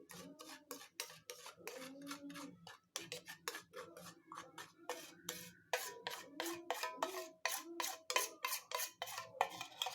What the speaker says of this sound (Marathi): बेकिंग सोडा आणि बेकिंग पावडर मिक्स करायची आहे तेलामध्ये